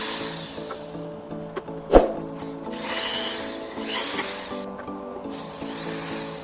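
A power drill bores a transformer mounting hole in a homemade amplifier box, running in uneven bursts of grinding whine with a sharp knock partway through, close and fairly loud.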